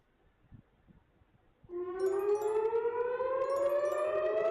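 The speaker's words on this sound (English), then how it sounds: "Generally, you hear these sirens in Tel Aviv." An air raid siren in Tel Aviv starts abruptly after quiet, a loud wailing tone that rises slowly in pitch and holds steady, heard alone without talk.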